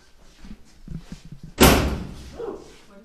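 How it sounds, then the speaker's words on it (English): A door slams once, loud and sharp, inside Edinburgh Manor, preceded by soft footsteps and shuffling, with a brief echoing tail afterward. "The doors slam, chairs slide, shuffling, those kinds of things have happened."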